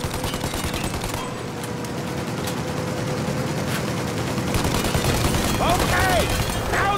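Gunfire erupts in a Mafia Definitive Edition shootout against a plane, with bursts of shots and rattling fire layered over a constant engine rumble, while characters shout over the action.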